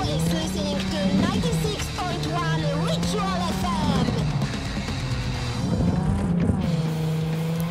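A car drives in Cyberpunk 2077, with a steady engine drone that rises and falls with gear shifts and a brief tire squeal, under intermittent talking.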